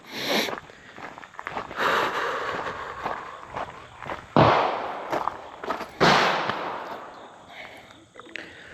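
Gunshots at a shooting range crack out as sharp, loud reports, with two or three prominent bangs spread several seconds apart and shuffling noise in between.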